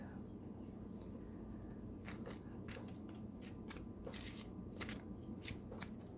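Talisman Oracle deck cards being shuffled by hand, a quiet run of soft riffling flicks and papery snaps repeating close by in an otherwise still room.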